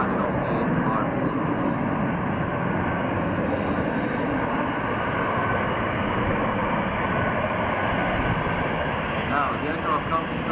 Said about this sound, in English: as the aircraft comes to the hover from the right-hand side, let's listen to the power of that engine.